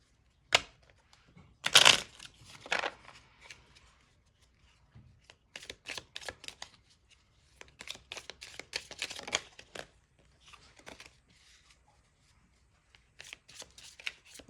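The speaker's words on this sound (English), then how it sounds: "We'll do some shuffling." A tarot card deck is shuffled by hand in irregular bursts of riffling and sharp flicks, close and fairly loud with quiet gaps between them.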